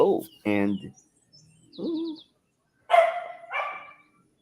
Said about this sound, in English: that's Marianne barking out there, either Marianne or Hoppo.